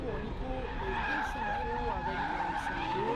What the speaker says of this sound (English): We have Delorme here racing in the small black BMW up against Lagalice in the larger blue M3 BMW